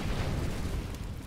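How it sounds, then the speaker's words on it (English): Incendiary grenade bursting in CS:GO, a steady low rumbling roar of fire that fills the whole moment at moderate loudness with no voices over it. "Incendiary out."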